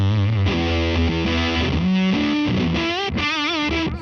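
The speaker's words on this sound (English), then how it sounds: "Now here is the germanium side. It's got a little noise to it." An electric guitar plays through the germanium side of a Dunlop Hendrix fuzz pedal at Summer NAMM 2019. The tone is thick and saturated, with sliding, bending notes and a steady wall of fuzzy sustain.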